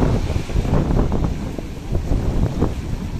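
Strong wind gusting over open sea near the Philippine coast during traditional net fishing, a steady loud roar buffeting the microphone throughout with fluctuating rumble and no voices.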